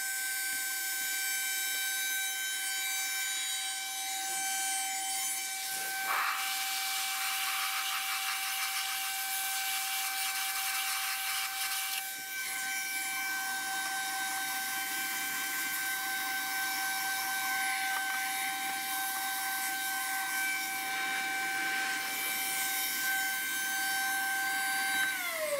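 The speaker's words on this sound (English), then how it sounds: "I really like this vacuum cleaner." A vacuum cleaner runs continuously with a steady high-pitched whine, its tone shifting slightly as it moves, with no talking.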